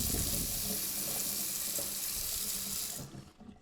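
A bathroom faucet in a full bath runs at strong pressure, a steady close rushing hiss of water that cuts off near the end, leaving only a faint trickle.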